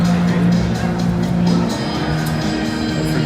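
Indoor crowd murmur in the small East Rink during a Flyers versus Minnetonka hockey game, a steady, dense babble of many voices with general arena din, continuous and moderately loud throughout.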